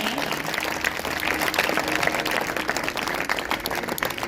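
Applause from a church congregation during a sermon, a steady dense patter of many hands filling the whole stretch at moderate loudness, with a voice partly audible underneath.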